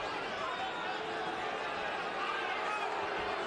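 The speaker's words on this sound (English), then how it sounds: "Crowd booing, no doubt asking Sanders to trade a little more." Boxing crowd in the arena during the 2004 Vitali Klitschko vs Corrie Sanders fight, a steady broad roar of booing and murmuring that holds at even loudness throughout, with no clear speech on top.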